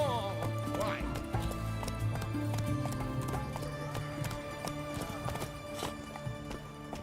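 Roach the horse gallops in The Witcher 3 video game, with steady rhythmic hoofbeats clip-clopping close and loud throughout, layered over a dense orchestral music bed.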